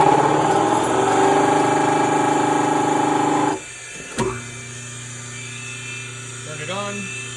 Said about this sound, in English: So we are going to start up the generator. Use pony motor, there's the main motor.